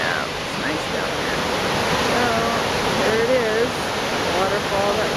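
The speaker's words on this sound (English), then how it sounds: "Waterfall that we've come to see." A waterfall on the Olympic Peninsula, a steady, dense roar of rushing water filling the whole stretch at close range, with a voice talking faintly beneath it.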